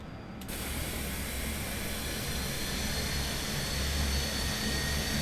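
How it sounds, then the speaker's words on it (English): Engine number 1 of an Airbus A400M turboprop military transport starts up: after a brief quiet moment, a loud, steady broadband roar and whine set in and hold, building slightly, with no talking. "So, there we go, number 1 is coming up."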